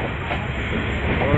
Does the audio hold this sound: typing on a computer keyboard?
no